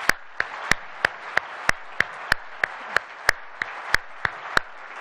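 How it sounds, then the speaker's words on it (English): Applause at a CoreNet corporate real estate presentation comes as crisp, evenly spaced claps, about three per second, sharp and near, with quiet gaps between each one. "Please join me in thanking them in a round of applause"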